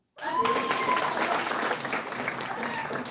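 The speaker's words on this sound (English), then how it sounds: "Can you clap for yourself?" An audience at a Bitcoin debate event claps together, a dense wash of applause that swells quickly and holds steady for a few seconds before easing slightly.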